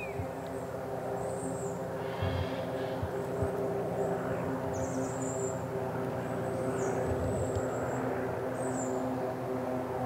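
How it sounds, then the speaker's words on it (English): Propeller drone of a light aircraft passing over pine woodland, a steady low hum sustained throughout, with high bird chirps above and a voice talking over it. "Shame that helicopter has to spoil it, but it'll be past in a minute. Oh, it's a light aircraft."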